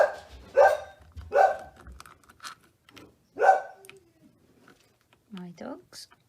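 Dogs bark at a crafter's home workshop during seashell mirror work: three or four sharp, fairly close barks in an uneven rhythm. Softer yips and small noises follow between them.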